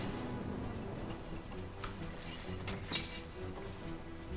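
A rain spell in the video game Divinity: Original Sin brings a faint, steady patter of falling rain with scattered drips and a low rumble beneath.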